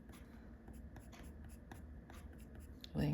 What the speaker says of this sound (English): see how I'm picking up my pencil crayon